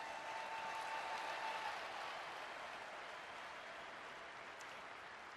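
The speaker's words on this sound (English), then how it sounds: "Let's give all of them a big round of applause." Sustained audience applause fills a meeting hall after a speaker panel, dense and steady throughout, easing off only slightly toward the end, with no voices standing out over the clapping.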